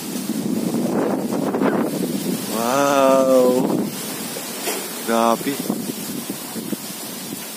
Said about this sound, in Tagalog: Yung hangin talaga dito, napaka fresh po talaga